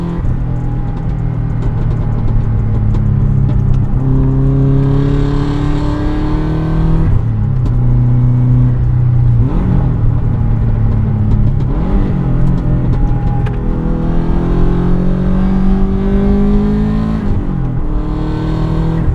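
A loud Subaru Forester STI engine revs up and eases off again and again as it accelerates through bends, droning steadily with no one speaking.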